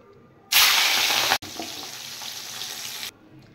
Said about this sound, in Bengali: তেল গরম হয়ে গেছে, এবার আমি মাছগুলো ছেড়ে দেব